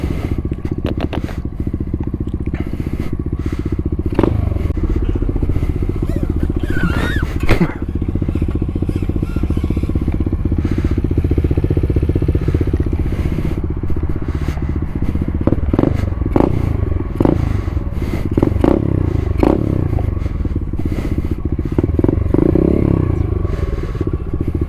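A pit bike's engine drones steadily while it is ridden, loud and close throughout, with scraping and clattering from the ride over roughly twenty-five seconds.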